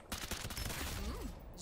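Rapid gunfire in the Farlight 84 video game crackles in a dense, continuous burst, with a voice briefly speaking over it.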